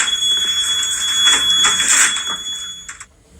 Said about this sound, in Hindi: Working of burglar alarm.